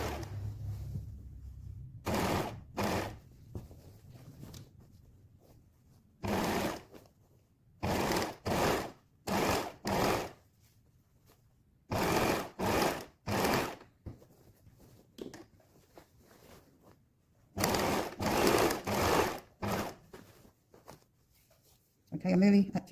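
Binding is sewn onto a quilted waistcoat on a sewing machine in short, close bursts of stitching, some grouped in quick runs, separated by quiet pauses.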